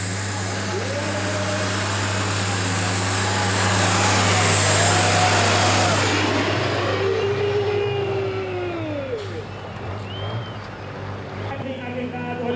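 A Hypermax-tuned International Harvester pulling tractor roars loudly at a 1994 tractor-pulling event in Erkelenz-Holzweiler, Germany, its engine note swelling and sweeping in pitch before tapering off, with a steady low hum and faint crowd noise beneath.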